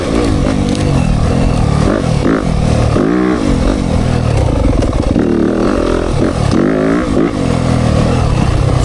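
A Yamaha YZ dirt bike engine revs hard and snappy up close, with repeated throttle blips and rising pitch sweeps as it climbs through the gears, loud and continuous with mechanical clatter throughout.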